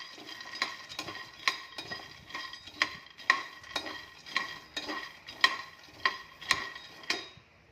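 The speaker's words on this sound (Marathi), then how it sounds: "प्रथम शेंगदाणे भाजून घेत आहोत" Peanuts dry-roasting in a pan for a sesame-peanut chutney are stirred with a spatula. Quiet, regular scraping clicks land about every half second, close and without talk.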